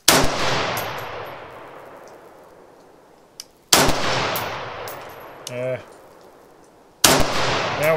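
Three loud rifle shots ring out at a 100-yard accuracy test, each a sharp crack followed by a long fading echo, spaced a few seconds apart outdoors, with a faint metallic clink and brief voice sounds in between.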